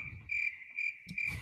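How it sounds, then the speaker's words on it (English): Crickets chirp in a steady, high, continuous trill, faint and close, with soft low background noise. "I hear crickets"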